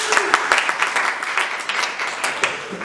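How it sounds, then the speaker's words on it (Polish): An audience at an author meeting in a palace hall applauds a participant named Bjorn, a dense, lively burst of many clapping hands with slight swells, close and fairly loud throughout. "Brawa dla Bjorna"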